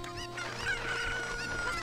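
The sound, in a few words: chicken clucking in video game Ocarina of Time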